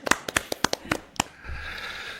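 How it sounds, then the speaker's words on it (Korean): A small group claps briefly in a TV studio, about eight distinct close hand claps over a second, then it trails off into quiet room noise. "박수 한번 치고 갈까요?"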